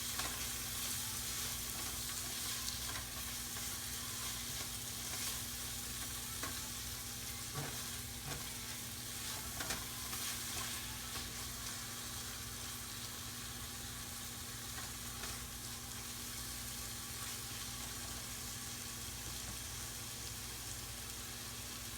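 Tomatoes with salt and chili powder fry in a pan for Hyderabad-style egg biryani, a loud continuous sizzle that runs unbroken throughout, with faint occasional stirring.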